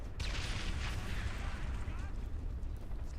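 A grenade goes off in the tactical shooter Ghost Recon Advanced Warfighter 2, a sudden loud blast at the start that decays into a long rumbling wash of noise.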